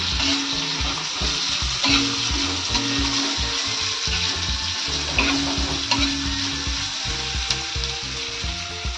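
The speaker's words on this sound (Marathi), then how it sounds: "थोडं पहिलं ढवळून घेऊया" Onion-tomato bhaji with turmeric and cumin powder being stirred in a hot pan, with steady frying sizzle and repeated spoon scrapes and stirs, close and continuous throughout.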